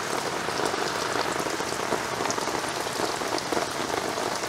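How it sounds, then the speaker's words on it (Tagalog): Heavy rain pours steadily over a flooded campsite, a dense, loud, unbroken hiss of drops hitting surfaces with no pauses. "Grabe, ayaw po tumigil na ulan."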